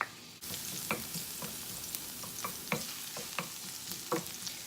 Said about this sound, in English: throw your garlic in there